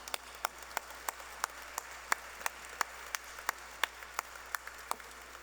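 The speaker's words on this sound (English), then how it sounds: "let us applaud and acknowledge them" Faint, evenly spaced claps repeat in a steady rhythm, like an audience clapping together in time.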